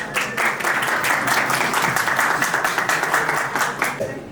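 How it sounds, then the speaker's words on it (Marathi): A crowd applauds a national cricket player at a traditional success party, steady dense clapping that holds loud for the whole stretch with some voices mixed in. "त्याबद्दल सर्वांनी त्यासाठी टाळ्या वाजवा"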